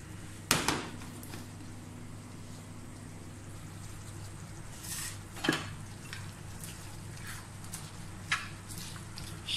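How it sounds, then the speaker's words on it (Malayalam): Beef fry with coconut pieces, curry leaves and cumin being mixed in a pan, quiet with a few sharp metallic clanks and scrapes of the utensil over a low background hum. "ആ സമയത്ത് നമ്മൾ ആദ്യം വെച്ച തേങ്ങാക്കൊത്തും കറിവേപ്പില നല്ല ജീരകം ഇത് ബീഫിലേക്ക് ഇട്ട് കൊടുത്ത് ശരിക്കും മിക്സ് ചെയ്തെടുക്കുക"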